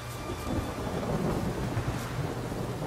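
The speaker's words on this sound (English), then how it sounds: "Lightning and thunder like that?" Thunderstorm in The Witcher 3 video game: a continuous low rumble of thunder rolls under steady rain, with a few faint crackling bursts near and loud throughout.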